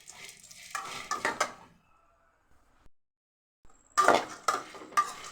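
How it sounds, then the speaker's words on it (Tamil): Pirandai being dry-roasted in a pan without oil: two bursts of a spoon scraping and clattering against the pan, with a quiet pause between them, close and fairly crisp. "எண்ணெய் போடாததுனால நம்ம இந்த கலர் வர வரைக்கும் வதக்கி எடுத்துக்கணும்"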